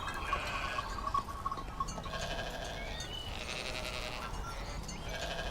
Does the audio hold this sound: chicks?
no